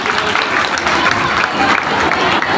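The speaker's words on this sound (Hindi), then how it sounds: "तालियों के साथ एक बार।" At a college farewell function, the audience gives the guests a loud round of applause, dense clapping mixed with crowd murmur close by.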